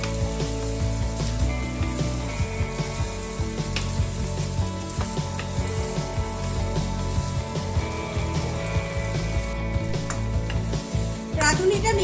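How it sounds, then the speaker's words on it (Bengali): Vegetables for Bengali shukto sizzle and fry steadily in a pan as radhuni spice paste is stirred through them, with continuous close frying noise and intermittent scraping strokes throughout. "রাঁধুনিটা এবার সব সবজির সাথে মিশিয়ে দেব।"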